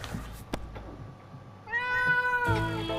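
A cat meows in the video game 60 Seconds! Reatomized, a clear, close harmonic cry arriving in two drawn-out calls over a low background hum.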